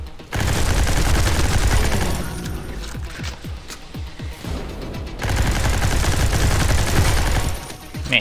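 Flaming-bullet gunfire from a gun in the video game Gene Shift Auto roars in long, dense automatic bursts with a brief thinner stretch midway, loud and continuous.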